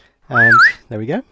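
A whistling audio alert from Betfair trading software signals a loss: a loud, close, rising-and-falling whistle followed by a shorter second whistle, with a voice speaking briefly.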